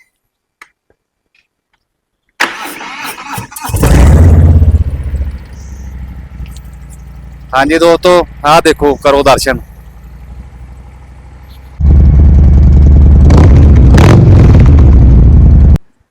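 A loud Harley-Davidson Low Rider 1800 cc motorcycle engine starts and revs in heavy bursts, with someone talking between the revs.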